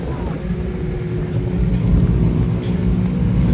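A Porsche rally car at an autumn rally drives past with a steady, deep engine rumble, moderately loud, with a voice faintly audible in the background.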